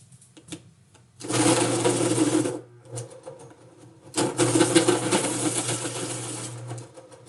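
A pencil sharpener grinds a pencil in a classroom in two buzzing bursts of a couple of seconds each, fairly loud and near, separated by a brief quiet gap.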